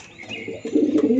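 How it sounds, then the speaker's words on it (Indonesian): A toy pigeon gives a short electronic coo, a brief chirp followed by a louder warbling call, close and alone. "Wah, yang ini ada burung merpati."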